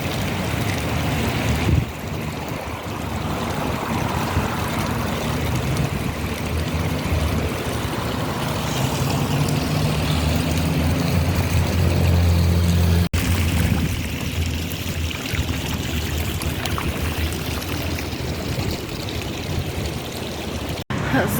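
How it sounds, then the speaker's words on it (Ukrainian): Constant rushing water pours from a small waterfall nearby, a steady broadband roar with wind buffeting the microphone throughout. "А тут такий водоспад, такий невеличкий є. Можна постояти, послухати."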